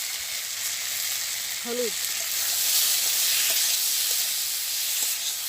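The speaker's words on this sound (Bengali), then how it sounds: "কচুরমুখীটা সুন্দর করে ভাজি" Taro (kochu mukhi) frying in oil in a village kitchen: a steady, bright sizzle fills the clip, swelling slightly midway, with a brief spoken word near the start.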